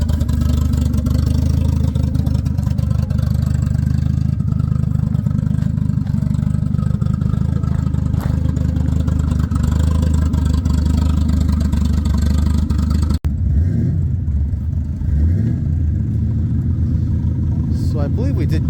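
A Volvo car engine at a Flemings Pumpkin Run car show runs loud and rough, a steady close rumble with revving that holds for most of the stretch. It eases into quieter idling near the end, with brief outdoor noise.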